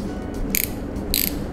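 A ratchet wrench is turned, giving two short, close bursts of rapid metallic clicking separated by a brief pause, over a low background hum.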